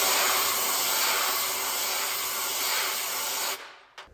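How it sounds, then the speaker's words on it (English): Compressed air blasts through a Propex heater while a vacuum is held on the hot-air outlet, a loud continuous broadband hiss that cuts off sharply near the end, followed by a short puff. "we're going to run compressed air."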